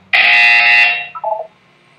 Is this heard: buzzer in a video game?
yes